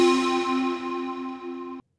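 A single sustained note from a Deepmind analog synth, steady harmonic tone that fades slightly before stopping abruptly, played alone.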